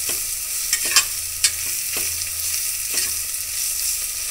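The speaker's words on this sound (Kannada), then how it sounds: "ಈಗ ಅದು ಒಂದು ಸ್ವಲ್ಪ ಫ್ರೈ ಆಗಲಿ." Ginger-garlic paste and onions frying in a pan give a loud, close, continuous sizzle, with several spatula scrapes and taps and a faint low hum underneath.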